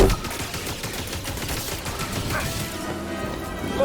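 Blaster gunfire in the Star Wars Jedi Fallen Order video game, with rapid overlapping shots in a dense volley, loud and close, fading into quieter combat noise toward the end.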